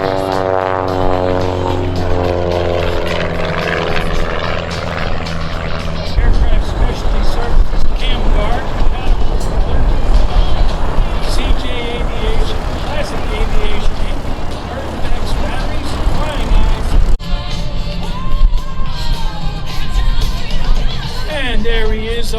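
Aerobatic propeller plane at a county airshow flying and coming in to land, a loud droning engine roar with shifting pitch, heard beneath an announcer's voice over the public address and crowd noise.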